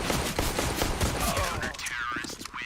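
Quick gunshots ring out during a Counter-Strike pistol round in a DreamHack Masters match, a cluster of sharp cracks in the first half fading out, with a caster talking over the action.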